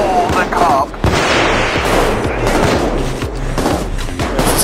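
Gunfire from a sniper during a jewelry store heist in Payday 2, a dense run of sharp cracks and booms layered with other shooting and game noise, loud and constant.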